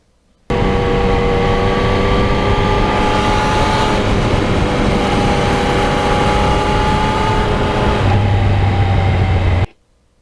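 A 2020 Yamaha MT-09 motorcycle riding on salty roads makes a loud, continuous engine drone mixed with wind rush, its pitch stepping through several quick-shifter gear changes before cutting off sharply.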